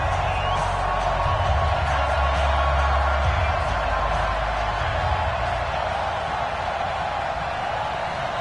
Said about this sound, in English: This crowd is ready as their guys get set to match up between the Cleveland Browns and the Dallas Cowboys.